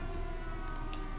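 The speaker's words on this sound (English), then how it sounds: "if I don't want these sirens to be heard the whole episode" Air raid sirens wailing in the naval strategy game Victory at Sea Pacific during the invasion of Tinian, a sustained droning tonal howl held steady throughout with no talk.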